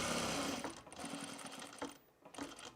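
A sewing machine stitches along the side of a jacket in a close, steady mechanical whir, with brief pauses and restarts between runs of stitches.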